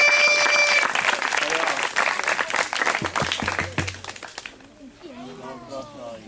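Audience applause at a 2008 Polish stage show greets a performer introduced as a hairdresser, a loud dense burst of clapping with cheers and whistle-like tones, thinning out toward the end as a voice starts speaking.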